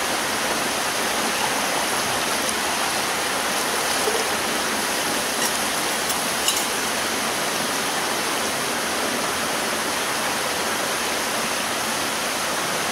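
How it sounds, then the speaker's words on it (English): Flowing creek water, a loud, steady, broadband rush and gurgle that continues unbroken throughout, close by and with no talking. "Alright, so we're down by the stream."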